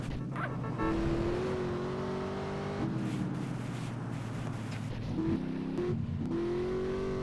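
A fast car in the video game GTA San Andreas drives with a loud, continuous engine whine that shifts pitch with each gear change, rising and dropping several times over seven seconds.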